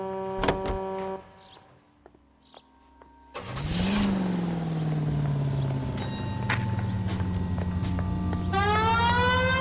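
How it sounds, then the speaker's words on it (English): Mechanical whirring gives way to a loud, sustained wailing police car siren rising and falling with engine noise, ending in a sweeping electronic tone, in the video game L.A. Noire. "We have a siren."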